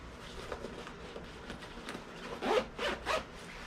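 Zipper on a small pocket of a Canada Goose Freestyle vest with YKK zippers, pulled quietly close by: a few soft rasping zips with the last strokes louder, no talk.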